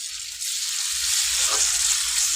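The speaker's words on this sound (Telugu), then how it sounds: "ఇప్పుడు ఆనియన్స్ పచ్చిమిర్చి మంచిగా ఫ్రై అయింది కదా" Onions and green chillies fry steadily in a pan with turmeric and ginger paste, a continuous loud sizzle with no talking.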